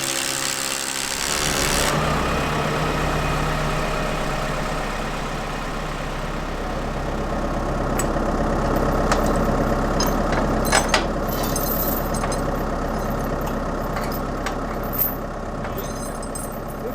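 A tractor engine idles steadily and loudly throughout while a 10x20 barn stall is hauled on a trailer, with a low constant rumble and a few brief clanks partway through.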